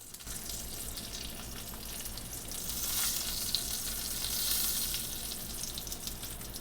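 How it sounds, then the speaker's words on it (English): Steak searing in avocado oil in a hot pan, a steady close sizzle and crackle that swells slightly midway, with no talking. "we want to sear the edges as well"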